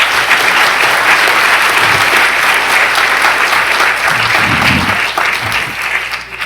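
A school awards crowd gives loud, sustained applause for an 8th grade district Student of the Year winner, steady dense clapping throughout with a few faint voices underneath.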